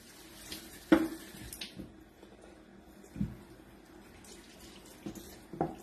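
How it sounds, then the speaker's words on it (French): Faint tap water splashes in short intermittent bursts in a sink as a paint brush is rinsed, with small knocks and handling noises between the gushes. "Hop, on rince avant de s'en mettre partout."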